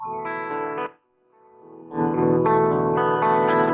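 Electric guitar chords ring through an amp with chorus, echo and distortion effects, a short phrase stopping abruptly before a fuller, louder strummed passage swells back in with trailing reverb.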